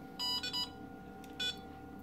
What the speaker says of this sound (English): these beeps mean it is in the wizard